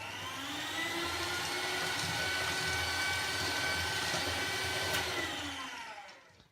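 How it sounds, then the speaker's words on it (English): A small electric handheld mixer fitted with dough hooks runs at a steady, loud motor whine for several seconds, then winds down and stops at the end, with no voices. "this lovely little mixer that has pretend dough hooks"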